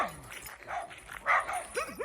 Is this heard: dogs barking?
yes